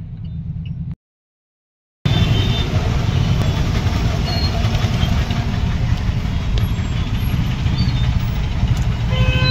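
A white Mahindra Scorpio drives along in traffic, heard from inside with a steady, loud engine and road rumble. The sound drops out for about a second near the start, then the drone carries on unchanged.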